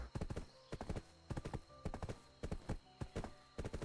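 Horse hooves clip-clopping in Black Desert, the online fantasy role-playing game: repeated quick clusters of loud galloping hoof strikes in a steady rhythm, close and alone.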